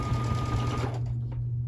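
A sewing machine stitches quilt fabric with a steady, close motor whir and hum that runs for about a second, then drops away to quiet.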